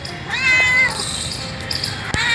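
A grey cat in Porbandar's Rani Bagh meows loudly up close with one drawn-out cry, followed by quieter rustling and a thump, then the start of another meow.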